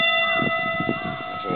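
A brass or bronze Buddhist bell rings with a sustained, clear tone and shimmering overtones that hold steady, while soft murmuring and handling sounds move underneath.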